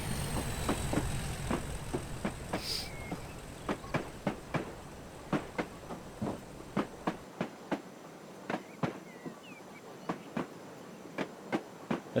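A 0-4-0ST saddletank steam locomotive in Train Simulator chuffs along steadily, sharp exhaust beats repeating at a regular rhythm over a low rumbling background that drops away partway through.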